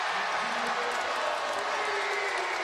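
A college basketball crowd cheers during a North Carolina game, a steady, dense roar filling the arena, with a commentator talking over it.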